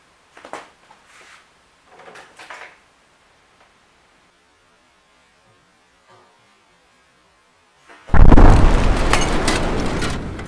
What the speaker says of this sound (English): that was the sound of a resistor exploding